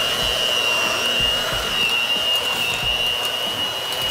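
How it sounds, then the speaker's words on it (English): An electric hand mixer whips ingredients for steak Diane with its beaters, giving a steady, close, high-pitched motor whine and whir with faint rhythmic knocks against the bowl. "And then we go to the hand mixer."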